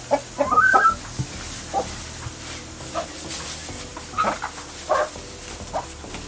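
Chickens cluck and squawk in short scattered bursts nearby, with quieter gaps and faint background rustling between calls.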